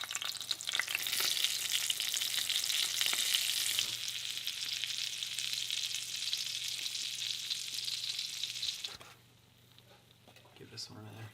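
Liver piroshkis frying in pig fat in a pan, a bright continuous sizzle with crackling that drops away near the end, while a person speaks over it.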